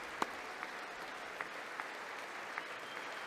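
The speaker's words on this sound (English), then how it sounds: "I think this is the longest applause of the night" Sustained applause fills a State of the Union chamber, a steady wash of many hands clapping at moderate distance, punctuated by a few sharper individual claps that stand out from the crowd.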